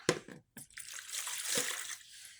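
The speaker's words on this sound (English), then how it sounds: "in a big old bowl, we're going to add 2 cups of water" Two cups of water poured into a big bowl for cheese bread, a steady splashing pour lasting a couple of seconds after a short clatter, close and fairly quiet with no talk.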